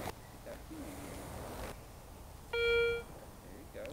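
A metal detector gives a short, steady electronic tone over a buried target in an outdoor field, heard once about halfway through over wind and rustling background.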